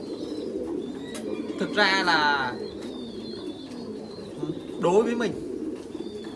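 Pigeons on a pigeon farm give two short bursts of throaty cooing, a few seconds apart, under someone speaking close by.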